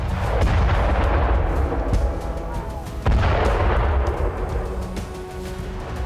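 Heavy explosions and artillery-like blasts from war footage of strikes on a weapons depot in Kursk, several sharp booms over a loud, continuous rumbling roar.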